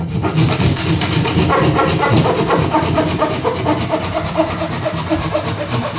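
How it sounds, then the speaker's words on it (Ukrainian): A small handsaw rasps steadily through pine wood in fast back-and-forth strokes, loud and close, with no talking. "Я навіть трохи здивований, але ця пила щось там навіть трохи ріже."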